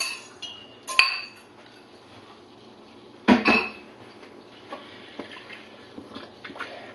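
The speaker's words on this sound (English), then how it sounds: "And just give that a stir to get the flour pretty much evenly spread in there." Challah dough being stirred: flour, salt and liquid ingredients worked in a bowl, with a few sharp clinks of utensil against the bowl over soft scraping, fairly close and with no talking.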